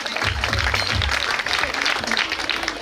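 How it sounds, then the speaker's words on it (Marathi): An audience at a village school's annual gathering applauds students being honoured, a dense, steady burst of clapping from many hands filling the room. "सर्वांनी एकदा टाळ्या वाजवून, जोरदार टाळ्या वाजवून सर्वांचा सत्कार करायचा आहे."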